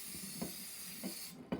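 Cooking spray hisses steadily from a can into a cake pan, a soft close-up aerosol rush with a few faint clicks and bumps underneath.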